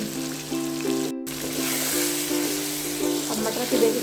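Peas and mutton fry in a pan with a continuous close sizzle, while steady tonal music plays underneath.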